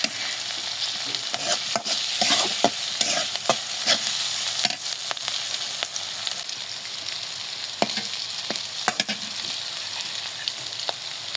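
Chopped onion fries in hot oil for a banana-stem and egg stir-fry, giving a steady close sizzle with repeated scraping and clacking stir strokes throughout, no voices.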